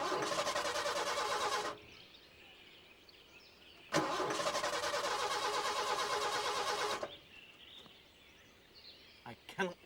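A breakdown vehicle's engine cranks and roars loudly, cuts out abruptly, then starts and runs again for about three seconds before stopping, followed by quiet and small knocks.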